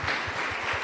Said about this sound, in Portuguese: Você pode dar um aplauso a Jesus, né?